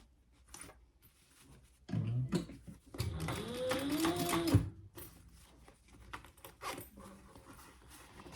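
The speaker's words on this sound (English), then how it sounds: "All right, let's top stitch that." A sewing machine runs in short bursts while top stitching a crossbody bag, its whirring hum rising and stopping between quiet pauses, fairly close and moderately loud.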